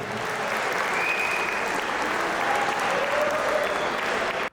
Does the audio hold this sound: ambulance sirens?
no